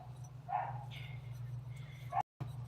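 Dogs barking at a distance in a Queensland garden, two or three short faint barks over a steady low hum, with a brief dropout near the end.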